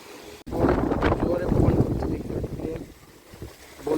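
Strong wind gusts roaring into an outdoor microphone, a broad rushing buffet that swells after a brief dip and stays loud, fading somewhat toward the end.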